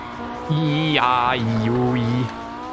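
Rally car engine from the RalliSport Challenge 2 Xbox video game, heard alone as a steady droning tone that rises sharply in pitch, then drops and holds lower, like revving through gears over about two seconds.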